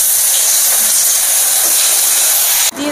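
Ginger and green chili paste sizzle in hot white oil with nigella seeds, a loud, steady hiss that fills the clip and cuts off abruptly near the end.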